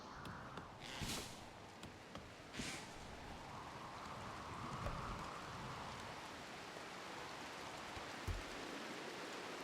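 Soft, steady rain falls in a colony-building game, a quiet even patter with a few brief louder taps and rustles scattered through it, no voices.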